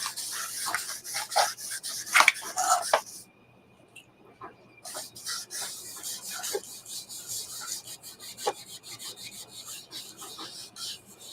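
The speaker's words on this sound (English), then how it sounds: "the deglazer is just basically to remove any grit or oil or other crud that might be on this" Leather surface being rubbed down with deglazer to clear grit and oil, a steady close scraping rub in bursts with a short pause partway, alone in a quiet room.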